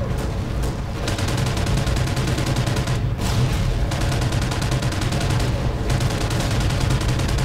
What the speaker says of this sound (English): My gunfire was pretty pro